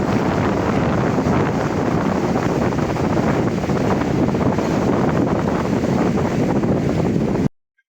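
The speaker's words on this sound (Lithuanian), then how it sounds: "Šiandien vėjuota ir bangos pakankamai didelės." Strong wind buffets the microphone while big sea waves roar and surge along the Tarragona coast, a loud continuous rush with no talking that cuts off abruptly at the end.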